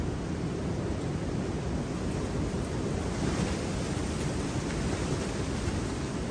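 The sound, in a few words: wind blowing outdoors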